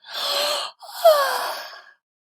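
A yawn from a storyteller reading a Christmas tale aloud: one drawn-out breathy exhale, a brief pause, then a longer sighing, voiced stretch that fades away, close and fairly soft.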